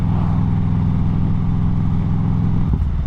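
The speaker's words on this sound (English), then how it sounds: "There's just something about the signature Harley sound that's just so intoxicating" A Harley-Davidson V-twin with a Reinhardt exhaust rumbles loudly and close up in a deep, lumpy, even idle pulse, with a brief blip near the end.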